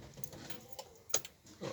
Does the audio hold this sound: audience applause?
no